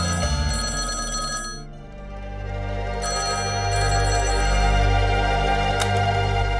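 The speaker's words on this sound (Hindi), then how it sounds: "ये फोन 2 बार बज के बंद हो जाता है।" A telephone bell rings in repeated bursts, loud and close, with a brief pause partway through before ringing resumes.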